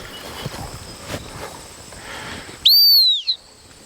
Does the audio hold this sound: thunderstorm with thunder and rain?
no